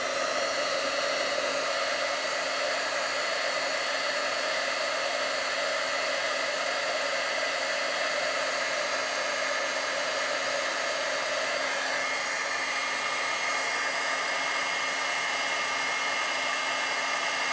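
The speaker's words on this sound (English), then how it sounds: "I'm gonna emboss. I'm gonna heat this real quick." Heat gun used for embossing powder on a handmade greeting card, a steady loud blowing whir that runs unbroken and close throughout with no talk.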